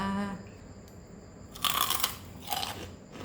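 Crispy fried Thai pork rinds (khaep mu) crunched close to the mic, with a brief lead-in of vocal sound, then two loud, bright crunching bursts of biting and chewing separated by a short pause.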